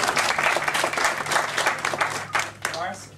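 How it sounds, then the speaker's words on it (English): An audience applauds at a convention panel introduction for the Haunt ME team as a producer is named, a busy burst of clapping that fades slightly while a voice keeps talking over it. "Round of applause."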